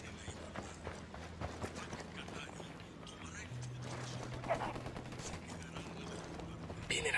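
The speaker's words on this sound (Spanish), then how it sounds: "Hay un tiroteo entre los rebeldes y Santa Blanca." Gunfire from a shootout between rebels and Santa Blanca cartel fighters in Ghost Recon Wildlands crackles as scattered, fairly distant shots and bursts over a busy game soundscape, with a low hum running underneath.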